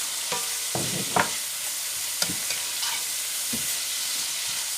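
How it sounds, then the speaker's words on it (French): Celery going into a pot of chicken and broth for a French-style poule au céleri, giving a few scattered soft splashes and clatters over a steady low simmering hiss, close and fairly quiet with no talking. "Maintenant, c'est le moment de mettre le céleri."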